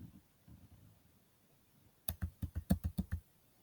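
Burst of roughly ten quick, close keystrokes on a computer keyboard as a short name is typed, following a quiet stretch with faint background noise.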